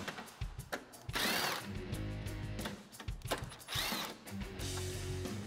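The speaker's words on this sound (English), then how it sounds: "Grab your 10 socket again and get those off." A socket tool backing out 10 mm headlight bolts on a 2005-2011 Toyota Tacoma, heard as several short whirring mechanical bursts with pauses between them, close and fairly loud.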